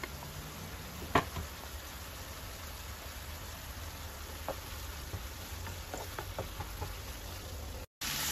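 Ground meat and chopped dry onions sizzle quietly in a frying pan, a faint, steady crackle with a few sharp ticks of a utensil stirring against the pan.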